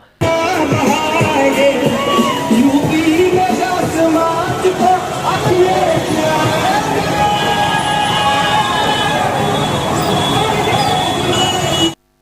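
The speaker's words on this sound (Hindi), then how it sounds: "इस रोड शो में हजारों सपा समर्थकों का हुजूम उमड़ पड़ा" Thousands of Samajwadi Party supporters pack a road show at a city medical crossroads, producing a dense, steady crowd hubbub of overlapping voices and street noise that stays loud throughout.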